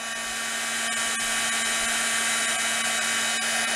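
A craft heat tool blows over a card to melt embossing powder, giving a steady close whirring hiss with a constant high hum, continuous throughout with faint clicks and no talk.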